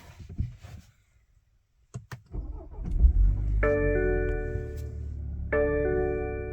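A BMW 330i starts up after a few faint clicks and a short silence, the starter cranking into a rumbling idle close by, accompanied by chiming dashboard warning tones.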